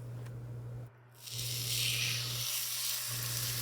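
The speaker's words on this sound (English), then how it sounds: "When you place the steaks, lay them away from you so you don't get splattered with any oil." Steaks laid into a hot oiled pan give a steady, loud broadband sizzle that drops off briefly, then swells back up and keeps hissing without a break, with no voices.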